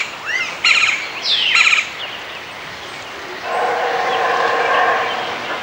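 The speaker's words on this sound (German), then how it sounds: "hier der Linienspecht." A lineated woodpecker calls in the Tikal rainforest of Guatemala, giving sharp repeated chattering bursts and rising notes, followed by a longer steady trilling series, close and clear over quiet forest background.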